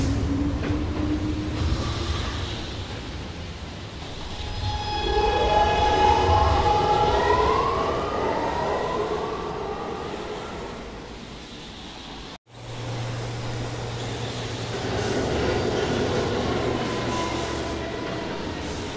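A Brooklyn-bound A express train on the New York subway at 42nd Street rumbles steadily through the station, with a rising, wailing wheel squeal in the middle and a low tonal hum after a brief cut.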